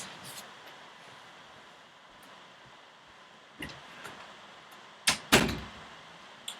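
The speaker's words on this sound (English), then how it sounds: "let me close my door really quick" A bedroom door shuts with a quick double thud and latch click, loud and close, against a steady background hiss; a few faint knocks come before it.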